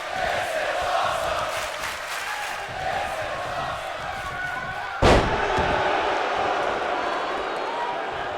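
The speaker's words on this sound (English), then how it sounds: "Crowd loving this here in the NPC studio." Studio crowd cheering at an indoor wrestling match, a steady roar that runs through the clip, with one sharp, loud slam of a body hitting the ring mat about two-thirds of the way through.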